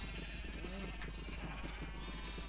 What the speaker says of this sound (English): they're gonna make beautiful little baby sheep.